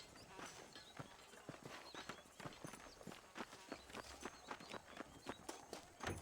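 A horse's hooves clip-clop at a steady walking pace in the western game Red Dead Redemption, a regular series of close, soft knocks over a faint outdoor background, with no talk.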